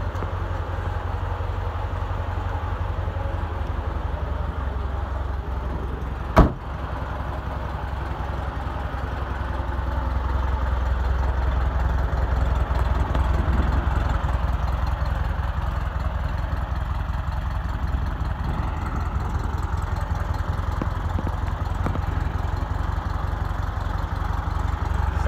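A 1971 VW Beetle engine idling nearby, a continuous low, even rumble that holds steady for about twenty-five seconds, broken once by a sharp click early on, with no voices.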